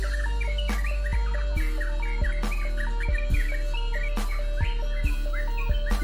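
A sooty-headed bulbul kept as a cage bird sings repeated bright, bubbling phrases at a steady rhythm, close and clear over a constant low hum, with short sharp clicks recurring throughout.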